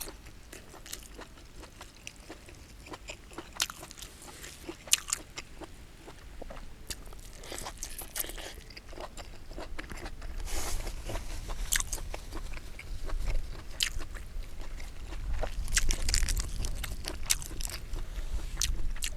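Someone bites and chews crunchy food close to the microphone, with repeated crisp crunches and scraping over a steady background rumble that grows louder toward the end.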